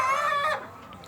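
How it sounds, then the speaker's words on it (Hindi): A single hen in a desi chicken farm shed gives a loud, drawn-out harmonic cluck that fades quickly, with free-roaming birds and no talk. "यहाँ पर बहुत लंबी कतार के अंदर ये मुर्गियाँ खुली फिर रही हैं, घूम रही हैं।"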